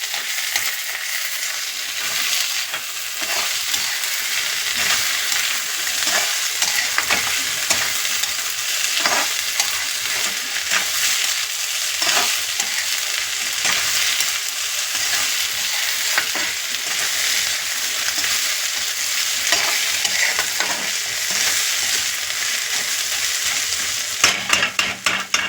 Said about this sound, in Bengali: আদা জিরে বাটাটা দিয়েও মিশিয়ে দেবো।